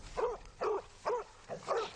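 A rescue dog barks four times in a steady rhythm, each bark short and moderately loud, with brief quiet gaps between them and no speech.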